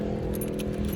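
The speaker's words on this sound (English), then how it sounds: "gotta find which pocket has my keys" Keys jingle briefly in a pocket with a light metallic rustle and faint clinks, close by, over a low background hum, lasting about a second.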